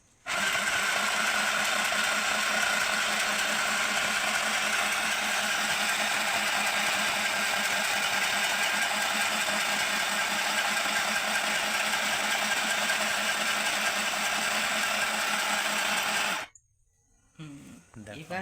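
A sewing machine runs steadily and loudly at close range for about sixteen seconds in a home setting, stitching cloth, then stops abruptly, leaving a short quiet tail.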